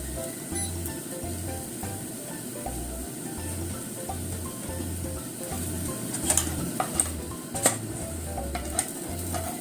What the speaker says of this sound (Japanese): ちょっと裏面がね柔かったのでもうちょっと焼きます。